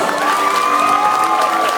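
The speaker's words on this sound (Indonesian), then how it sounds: "Tepuk tangan yang meriah dulu." Audience at a Year 12 arts performance at a public senior high school in Praya cheers and applauds in a dense, steady roar of mixed shouting and clapping, loud and close throughout.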